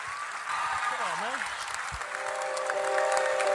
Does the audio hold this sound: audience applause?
yes